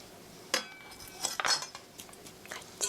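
A utensil stirs chopped onion and garlic in a pan, giving a few light metallic clinks and scrapes. The sounds come in short bursts over a quiet kitchen background, with no talking.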